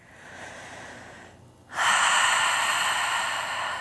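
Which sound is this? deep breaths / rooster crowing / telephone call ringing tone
deep breaths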